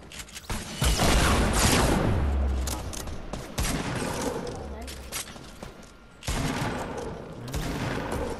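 Shotgun blasts and other gunfire in a Fortnite 50 vs 50 battle royale match, bursts of booming shots separated by quieter gaps, with a voice speaking over the action.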